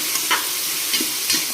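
Soya chunks stir-frying in a hot pan, a steady close sizzle broken by three quick scraping stirs of the spatula, no talking.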